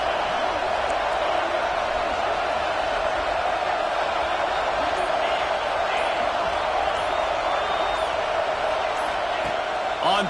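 Roaring stadium crowd noise from a college football video game, the Crimson Tide home crowd on third down at Saban Field: a loud, steady, continuous wash of cheering with no breaks.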